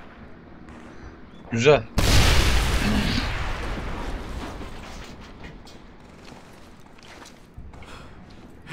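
A hand grenade detonates in Medal of Honor Airborne, a sudden loud blast that rumbles and fades over several seconds, followed by quieter game sounds, with someone speaking briefly before the explosion.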